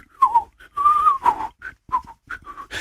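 Someone whistles a short, jaunty tune in quick bright phrases with little pauses, close and clear.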